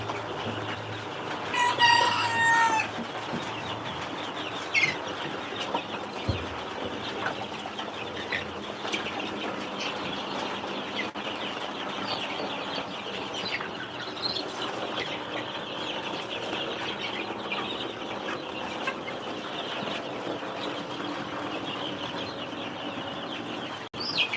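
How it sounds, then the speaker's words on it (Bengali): Egyptian Fayoumi chickens clucking and rustling amid a steady rumbling background, with occasional wing flaps and scattered calls over a long stretch, no one speaking. "এগুলো হচ্ছে মিশরি ফার্মি মুরগি"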